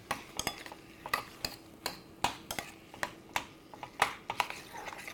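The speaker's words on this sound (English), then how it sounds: "now I'm going to stir this all up" Spoon stirring a mixture in a metal pot on the stove, a steady series of close clinks and scrapes repeating roughly twice per second, with no talking.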